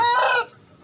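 A rooster, a domestic chicken of the village or Bangkok type, gives the loud close tail end of a crow that cuts off abruptly into near silence.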